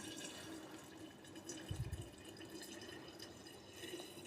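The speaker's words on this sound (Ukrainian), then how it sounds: "Доливаємо водичкою, трішки підігріла." Slightly warmed water is poured over about 100 grams of sugar for a refreshing homemade drink, giving a soft, faint trickle and splash up close, with a small burst midway and no talking.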